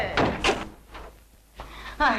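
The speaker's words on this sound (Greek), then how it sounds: "Θα σπάσω την πόρτα!" Someone bangs on a door in a 1960 Greek film comedy: several loud, close thumps spaced irregularly, with a voice shouting between the blows.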